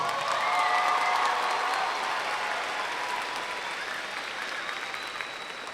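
Sustained applause fills a large hall at the 2022 South Garland High School graduation, a dense wash of many clapping hands with faint cheers and crowd murmur, slowly tapering over several seconds.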